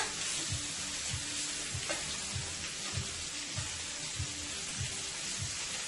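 Shrimp cooking in a hot pan alongside ribeye steak preparations, a soft continuous sizzle with regular faint pops and bubbling, quiet and close with no talking.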